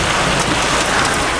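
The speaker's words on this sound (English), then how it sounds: "Look at the road, how the hail is falling." Dense hail hammering a road during a Florida storm, a continuous loud, hissing wash of many impacts, close and steady with no speech.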